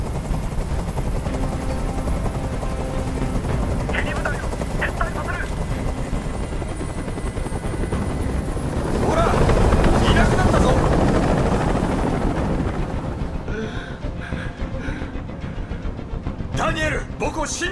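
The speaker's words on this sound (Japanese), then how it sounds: "あの音おかしくなりそうだ。 あのヘリコプターをどこかにやってくれ。" Helicopter hovering close overhead in a tense hostage standoff scene from the video game Detroit: Become Human, a steady loud rotor drone that swells midway, with short bursts of voices and other game sounds over it.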